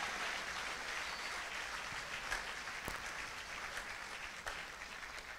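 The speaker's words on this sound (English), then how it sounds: "Can we clap for Jesus Christ?" A church congregation claps together, a dense, even patter of applause that carries on steadily, moderately distant and without any voice over it.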